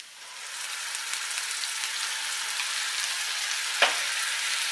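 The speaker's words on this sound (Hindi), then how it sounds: "अदरक लहसुन को भी मैंने प्याज के साथ लगभग 1 मिनट के लिए भून के तैयार कर लिया है" Onions with ginger-garlic paste fry in a pan over a medium flame, giving a steady soft sizzle with one brief clink or scrape near the end.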